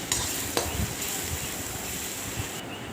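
Spice masala is stirred and fried in a pan for a home-style chicken curry, giving a continuous soft sizzle with occasional scraping clicks of a spoon against metal, close and fairly loud.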